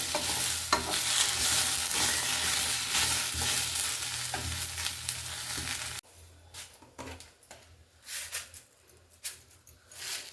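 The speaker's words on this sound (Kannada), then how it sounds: "ಎಣ್ಣೆ ಹಾಕಿ ಚೆನ್ನಾಗಿ ಹುರ್ಕೊಳ್ಬೇಕು ಎಣ್ಣೆ ಒಳಗಡೆ ಬೆಂದ್ಕೊಂಡ್ಬಿಡ್ಬೇಕು" Okra fries in oil in a pan with a loud, dense, continuous sizzle that drops suddenly partway through to a quieter crackle with stirring noises.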